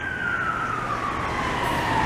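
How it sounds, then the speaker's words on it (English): A Montreal fire chief's emergency vehicle siren wails steadily and loudly, a single sustained tone sliding slowly downward over continuous road noise, with no voices. "Don't be afraid to use that siren. There you go."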